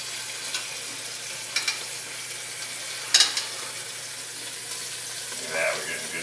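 Chuck roast sears in a hot pan with a steady sizzle, punctuated by a few sharp spits and crackles, one louder burst midway.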